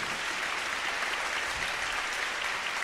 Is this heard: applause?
yes